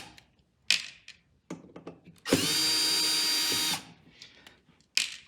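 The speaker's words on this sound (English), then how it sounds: "We remove these 4 screws that are holding the back panel on." A power screwdriver backs screws out of the back panel of an SHEHDS 18x18W PAR can stage light: one loud whirring burst of about a second and a half, framed by scattered clicks and handling knocks.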